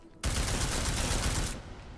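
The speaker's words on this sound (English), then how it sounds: "I guess I have to just shoot them a little bit more than usual." In Deus Ex: Mankind Divided, a rapid burst of automatic gunfire shoots at tires, sounding as one loud, dense fusillade that lasts just over a second and then cuts off into quiet.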